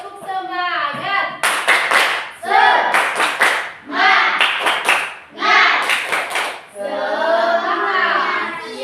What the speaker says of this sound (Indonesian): Tepuk semangat lagi dulu.